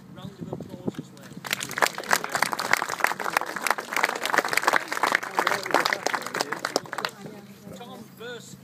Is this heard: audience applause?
yes